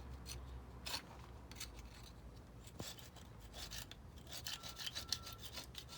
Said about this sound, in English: Some of this stuff is so hard that it may take a little while of scraping to get it off